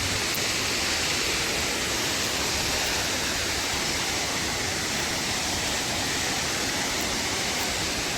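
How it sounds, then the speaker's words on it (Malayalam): A large waterfall in a Chhattisgarh forest roars with a loud, unbroken wash of falling water, steady and close for the whole stretch. "ഇതാണ് വെള്ളച്ചാട്ടം"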